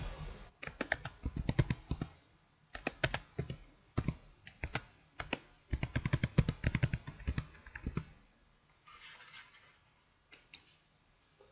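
Rapid clicking of typing on a computer keyboard as the word OR is entered in capitals into a database search box, coming in short bursts with brief pauses, close and clear, with no voices.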